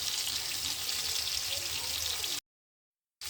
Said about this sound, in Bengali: মাছ ভাজি করি,